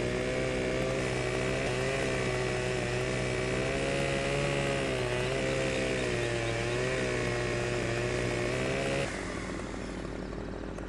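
A chainsaw cuts branches in Farming Simulator 17, its engine droning loud and steady with slight pitch wavers, then dropping to a lower idle near the end.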